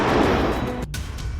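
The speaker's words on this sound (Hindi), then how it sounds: "धमाका अफ्रीका महाद्वीप के सोमालिया में हो रहा है।" A loud, booming blast from a US military strike in Somalia, with a dense burst that decays into a rumbling tail, then a short gap before more low rumble.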